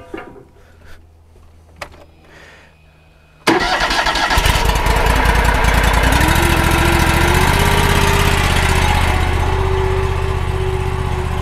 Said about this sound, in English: it'll give the engine a good chance to warm up here before we really get on it